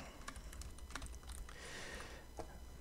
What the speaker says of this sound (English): I'm going to drop it on there, and I will type it in.